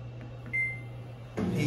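A GE washing machine's drain pump runs during a diagnostic test as a steady low hum, with a brief beep and a louder surge of motor noise near the end; no one speaks.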